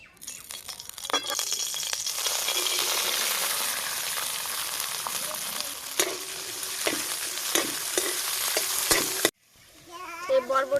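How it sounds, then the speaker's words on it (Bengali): Yardlong beans frying in hot oil, a steady close sizzle with stirring clinks and scrapes running for about nine seconds before it cuts off abruptly to quieter kitchen noise. "এবার বরবটিটা ভেজে নেব"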